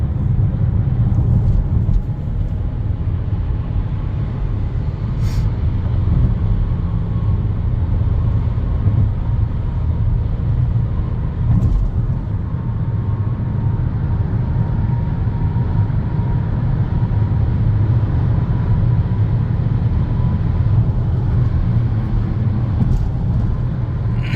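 A Renault QM6 SUV driving steadily, with a continuous low engine and road rumble filling the cabin, unbroken and fairly loud throughout, with no talk.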